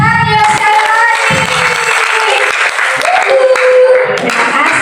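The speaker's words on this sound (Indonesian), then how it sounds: "Mana tepuk tangannya sekali lagi." Applause from a congregation at a Christmas worship service on Gunung Salak, Bogor, a steady broad clatter of many hands that fills the whole moment, with voices and some tonal sound mixed in underneath.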